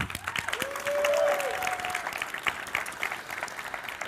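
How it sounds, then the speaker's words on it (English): A church congregation applauds a mission team back from Mexico on a Sunday morning, sustained clapping throughout with a brief voice or cheer rising over it early on. "Hey, Mexico team, give your supporters a round of applause too"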